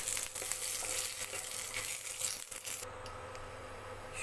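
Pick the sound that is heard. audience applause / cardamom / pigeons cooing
cardamom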